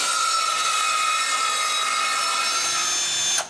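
A power saw runs steadily through a straight wooden plank outdoors at a cabin woodshed. The whine is loud and continuous and cuts off abruptly at the end.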